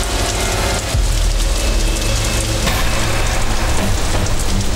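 Heavy rain pours down steadily, a loud, dense wash of drops hitting surfaces throughout with no pauses.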